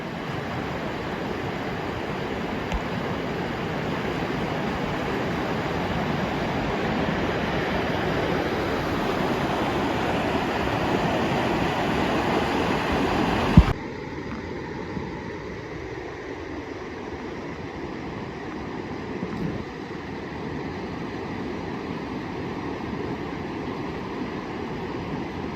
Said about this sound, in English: Wow, that water's just rushing through.